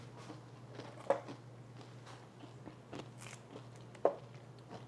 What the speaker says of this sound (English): so it's actually a really crunchy cookie